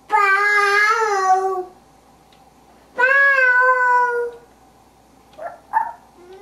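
A cat meows loudly twice in long, drawn-out cries, followed by a couple of shorter, quieter mews nearby.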